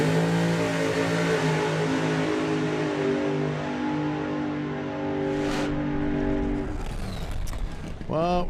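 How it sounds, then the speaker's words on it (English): Hot rod dragster engine at the start line of a drag strip at Santa Pod Raceway, a loud continuous rumbling drone that swells into a sharp rising rev near the end, with a commentator talking over it. "Robin Reed then moves the dragster up to the line."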